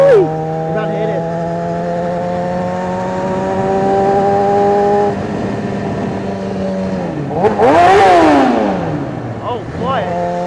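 A 600 cc starter motorcycle's exhaust drones loudly while revving through a tunnel, holding a steady pitch, then dropping and surging in a sharp rev with a burst of noise, with a voice in the background.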